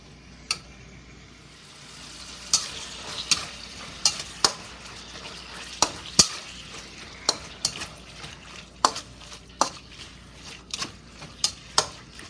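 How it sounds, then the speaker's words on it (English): Shredded pork for fish-flavored pork is stir-fried in a pot. A soft, constant sizzle runs under sharp, irregular scrapes and knocks of the utensil against the metal, and these grow busier toward the end. "and stir fry. Don't let the meat stick to the pot."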